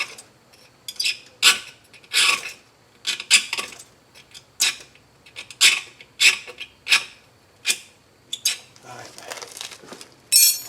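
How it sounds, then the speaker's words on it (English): Scribing the edge of a car strut on a 1998 Subaru Outback during axle removal, a series of sharp rasping scratches in short repeated strokes, close and fairly loud, with no talk. "I'm just scribing the edge of the strut so I can get it right back where it came off."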